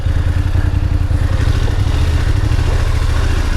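A motorcycle rumbles close by with a steady low engine note as the ride gets underway, continuous and loud throughout.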